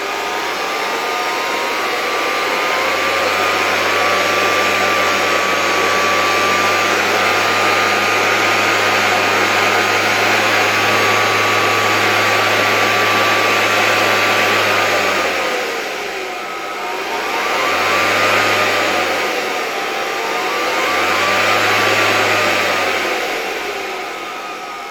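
The motor of a Zelmer vacuum cleaner, type 300, runs with a steady high whine after its bearings have been replaced, then slows and speeds up again in two dips near the end, loud and close.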